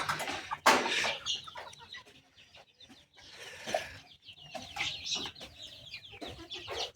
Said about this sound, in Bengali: দুইটা মুরগির বাচ্চা ফুটতেছে